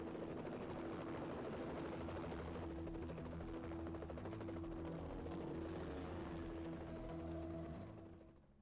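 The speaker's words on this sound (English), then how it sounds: "It's time to chase down Garth's helicopter." A helicopter in the Knight Rider PS2 video game, a loud steady rotor thrum and engine whine that holds for several seconds before fading out at the end.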